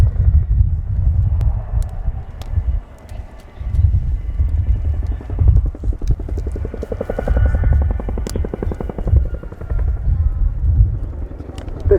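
A Royal Air Force Chinook HC.6A twin-rotor helicopter flies an airshow display at RIAT, its loud low rotor thudding pulsing throughout, with an announcer's voice carrying over the noise.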